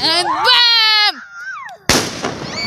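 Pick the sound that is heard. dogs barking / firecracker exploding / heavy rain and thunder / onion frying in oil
firecracker exploding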